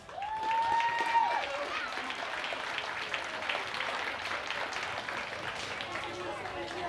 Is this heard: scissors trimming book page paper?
no